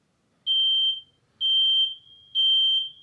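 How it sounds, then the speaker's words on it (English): Smoke detector chirping with three sustained high-pitched electronic beeps in a steady rhythm, each lasting about half a second, loud and clear over a quiet room with no talking. "Put some batteries in your fucking smoke detector."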